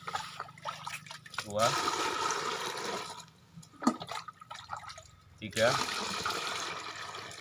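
Clean water poured into a container, about two liters, for mixing longan fertilizer. Two splashing pours are heard, with a voice counting briefly between them.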